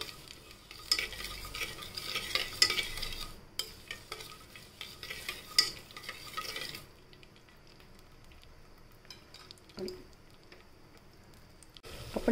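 Broken wheat is stir-fried in a pan for a sweet pudding: a spatula scrapes and stirs in loud bursts of sizzling for several seconds, then the frying settles to a quieter hiss with occasional clinks.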